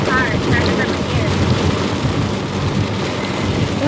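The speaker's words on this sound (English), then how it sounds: "Hey, it's raining really hard." Heavy rain pours steadily during a flood, a dense continuous roar close to the microphone with faint voices in the background.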